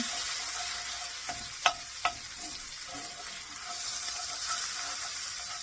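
Roasted garlic puree and Dijon mustard stirred into creamed Brussels sprouts in a hot pan, a steady sizzle with soft scraping and a couple of sharp utensil clicks, close and fairly quiet.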